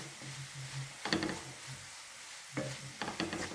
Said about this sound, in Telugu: హాఫ్ టేబుల్ స్పూన్ కారం వేసుకుందాం వేసుకొని బాగా కలుపుకోవాలి